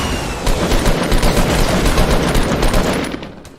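Rapid automatic gunfire from the Fortnite battle royale video game, a sustained burst of loud, closely spaced shots rattling through most of the stretch before tapering off at the end, with no talking.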